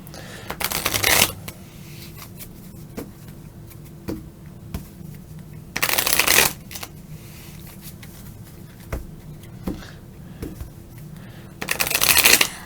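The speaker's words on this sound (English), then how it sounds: "All right, so now I'm going to shuffle the deck." A deck of cards being shuffled during a Disney Mad Tea Party card game, heard as three distinct riffling bursts spread across otherwise quiet, close-up table sounds.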